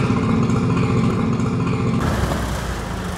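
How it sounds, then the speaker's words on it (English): A Minneapolis Moline UB tractor engine in Farming Simulator 22, a steady, loud, close mechanical drone that shifts to a rougher, lower note partway through, heard alone. "Right here we got a Minneapolis Moline UB. This is a neat little tractor. I love this thing. This thing sounds so cool."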